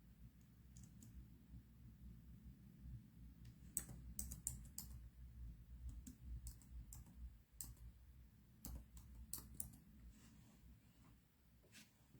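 Typing on a computer keyboard, a quiet, irregular stream of key clicks in uneven bursts over a low steady background hum, close by, with no talking.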